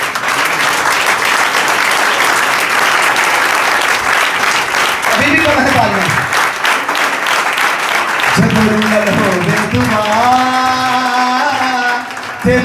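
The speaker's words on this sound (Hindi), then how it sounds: "तो फिर तालियां बजाओ यीशु दे जलाल दे।" A church congregation at a Palm Sunday prayer service breaks into loud, steady applause that continues for several seconds, with voices and a drawn-out shout rising over the clapping toward the end.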